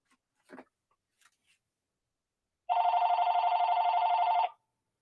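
A telephone rings once with a steady electronic warble lasting almost two seconds, loud and close in a quiet room, after a couple of faint small taps.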